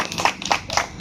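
Several people clap by hand in a steady, fairly loud rhythm, with clustered bursts of claps repeating about every quarter second, close by and without talk.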